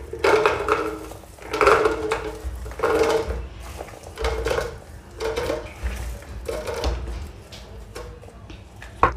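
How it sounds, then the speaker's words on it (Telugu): Garlic cloves are dropped into a container for peeling. The cloves make a series of close, hollow rattling and knocking bursts in an uneven rhythm, with no talk. "ఇప్పుడు ఈ వెల్లుల్లిపాయల్ని ఈ డబ్బాలోకి వేసుకోవాలి"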